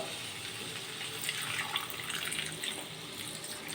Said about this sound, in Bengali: দেখুন মশলার সাথে আর ধনে পাতার সাথে আলুটা খুব ভালো মতো আমার কষানো হয়ে গেছে এবার আমি দেব পরিমাণ মতো জল